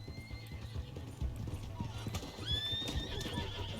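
A horse in the video game Red Dead Redemption 2, giving a run of clip-clopping hoofbeats and a sharp whinny, with voices talking over it.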